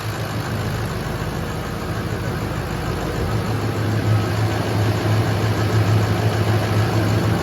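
A heavy Ford PowerStroke 7.3 diesel truck engine with new injectors idles steadily and close by, a low, even rumble that continues unbroken throughout.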